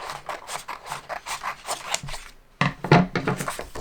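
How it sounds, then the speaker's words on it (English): Scissors snip through paper in a quick run of rhythmic cuts, close up, pausing briefly before a few louder, sharper snips. "You can just take a pair of scissors and eyeball about 1 inch away"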